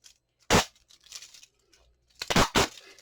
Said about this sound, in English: So you just peel your plastic off.